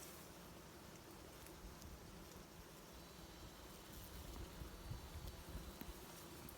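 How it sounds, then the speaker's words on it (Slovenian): Bees buzzing around flowering Evodia (bee tree, Tetradium daniellii) in the Slovenian countryside in late July, a steady dense hum of many insects with no clear breaks, continuous and moderately faint throughout. "Tule so samo čebele."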